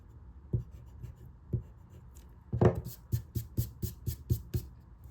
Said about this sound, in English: I'm going to take my eraser right now and I'm going to erase all that inside